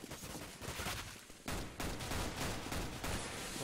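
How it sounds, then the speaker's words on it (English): Sustained gunfire crackles from a competitive shooter game during an Australia vs New Zealand World Championship 2015 Oceanic qualifier match, loud, dense bursts with a brief drop near the middle before firing resumes at full intensity. "Blackout firing away in the smoke."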